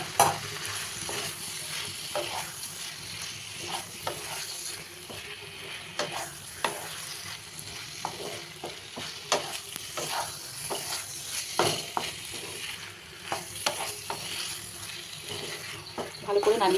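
Mashed boiled potato being stirred in a pan for a potato curry served with puri, with a continuous low sizzle under repeated scraping and knocking strokes of the spoon, close and fairly quiet.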